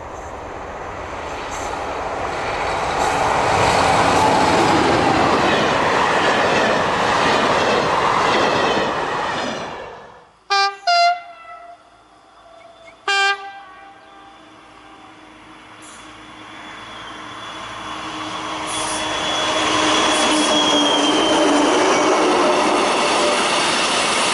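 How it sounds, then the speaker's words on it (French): A freight train hauls empty wagons on a rural French line toward Neussargues, a loud steady rumble that fades to quieter clanking and wheel squeals, then builds again as more wagons roll past. "le fret ramène les wagons vides de Saint-Chély. Il se dirige en direction de Neussargues."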